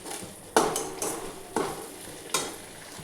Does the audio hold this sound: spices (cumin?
yes